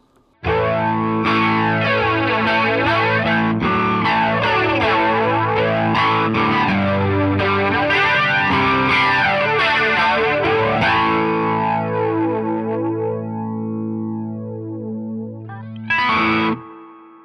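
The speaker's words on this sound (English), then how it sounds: "what the real BF-3 flanger sounds like with all the settings at noon" Electric guitar strummed through a Boss BF-3 flanger pedal with every setting at noon, sustained chords sweeping with a loud, swirling jet-like whoosh, ringing out before a final sharp strum near the end.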